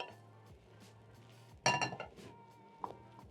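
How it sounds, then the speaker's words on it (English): Cooked eggs being moved from a pan to a plate with a utensil: a quiet kitchen stretch, then one sharp cluster of clinking scrapes in the middle and a single lighter clink near the end. "I'm going to transfer the eggs to a plate"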